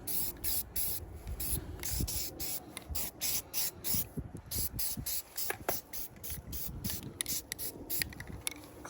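Close bursts of aerosol spray paint hiss as a light coat goes onto car control arms, in short repeated sprays with brief gaps and faint handling noises between them.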